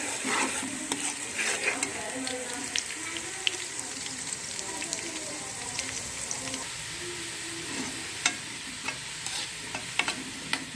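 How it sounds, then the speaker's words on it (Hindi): Garlic-ginger paste fries with browned onions for chicken yakhni pulao in a constant, busy sizzle. Frequent scraping and stirring knocks come through up close, with no voices. "अब हम इसमें डालेंगे लहसुन अदरक का पेस्ट।"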